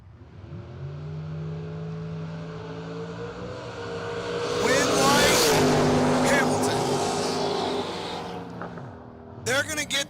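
Chevrolet Camaro and Ford Mustang in an outlaw drag race at a dragstrip, engines droning and rising to a loud full-throttle roar mid-run before fading, with commentary talking over the engines.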